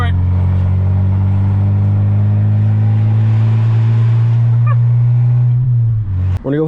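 A VR6-engined car accelerating hard at full throttle, loud and close, with a steady rising engine drone that holds for about five seconds before easing off, and a voice talks over it.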